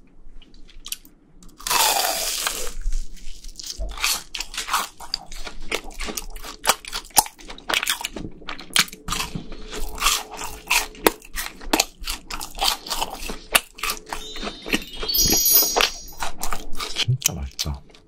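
Crunchy BHC cheese balls bitten and chewed up close, with loud repeated crackling crunches in an irregular rhythm, a brief voice and a few light clinks between bites.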